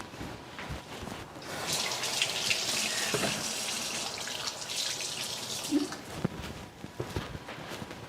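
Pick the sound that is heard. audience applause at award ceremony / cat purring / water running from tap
water running from tap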